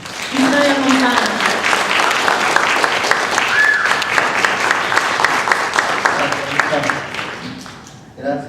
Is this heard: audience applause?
yes